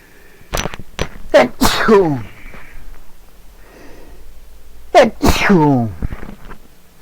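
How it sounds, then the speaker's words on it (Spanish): Two loud sneezes burst out close by, several seconds apart, each with a sharp intake of breath before it. "Ay, perdón, un estornudillo ahí."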